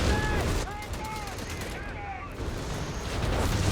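Gunfire and anti-tank gun shots from Company of Heroes 3, a dense rattling battle din with bursts of shots and whistling, heard under a commentator's voice.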